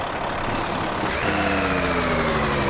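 Heavy engine drone of a 1020 hp Kenworth truck in Euro Truck Simulator 2, steady and loud, shifting at about midway to a deeper, harmonic braking tone as the engine brake engages.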